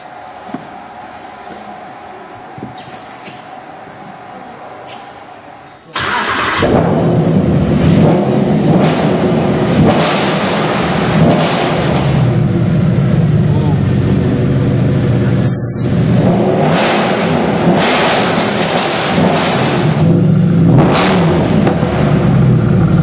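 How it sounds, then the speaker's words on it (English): Mercedes-AMG SLS GT3 race car engine at AMG in Affalterbach bursting into life after a quiet start, then a loud, continuous deep roar with revving that carries on to the end. "perhaps we can give the engine a little bit of a try. Huh? So let's hear what it's got."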